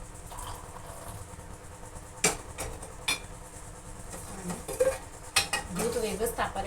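Cups and a spoon clink while jaggery tea is served, a few sharp, close metallic taps and rattles spaced across a quiet room, followed by soft handling and shuffling noises.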